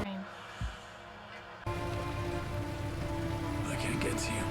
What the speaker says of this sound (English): Oh, you got stuck in the rain.